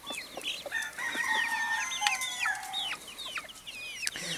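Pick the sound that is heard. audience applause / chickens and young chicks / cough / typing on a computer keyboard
chickens and young chicks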